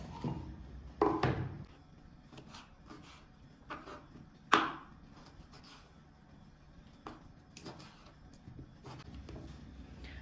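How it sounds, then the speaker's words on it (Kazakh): Raw fat is chopped with a knife on a board while preparing stuffed tripe, giving a few irregular knocks and taps, two of them sharper and louder, over a quiet background. "Майымызды турап аламыз."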